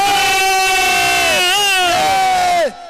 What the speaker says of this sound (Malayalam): അതെ കൈയടിക്കുക